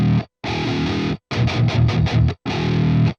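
Short palm-muted electric guitar chugs pitched down to a lower tuning, played as heavily distorted bursts separated by abrupt silences, with one quick run of rhythmic stabs in the middle; each hit cuts off fast with thin, weak sustain.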